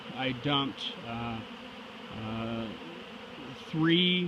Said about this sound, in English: quite scary for the residents here, as there are thousands and thousands of bees